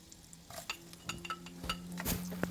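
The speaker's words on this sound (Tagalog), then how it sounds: "So gisahin lang natin hanggat sa bumango" Garlic sautéing in a pan, with scattered metal clinks and scrapes from a utensil stirring, faint sizzling underneath, quiet and close with irregular taps building toward the end.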